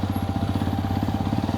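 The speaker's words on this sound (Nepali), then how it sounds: "hero सोरुमले bike झिक्दैछन्" A Hero motorcycle idles steadily as it is taken out of a showroom, its engine putting out an even, rapid low thumping pulse throughout with no talk.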